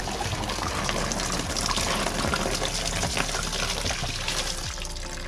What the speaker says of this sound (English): bottom radiator hose undone so we can drain all the fluid out